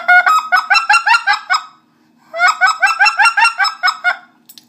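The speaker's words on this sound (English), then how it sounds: "The whit cluck is harder because it's right from the diaphragm, so you're really working your diaphragm." Short, sharp honking clucks blown on a speck goose call from Basin Waterfowl Calls, two quick rhythmic runs of about eight notes each separated by a pause, loud and close with no talking.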